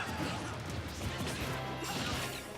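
Luigi's rage-boosted up smash lands on Sonic in a Super Smash Bros. match, a sharp crashing impact amid dense game noise, loud and brief.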